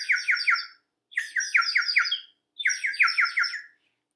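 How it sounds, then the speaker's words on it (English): Short bursts of high bird chirps and tweets come in three clear clusters separated by brief silences, each a rapid run of bright repeated notes, fairly close and with no other sound. "and the birds were still tweeting,"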